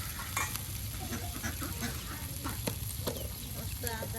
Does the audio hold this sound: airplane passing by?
no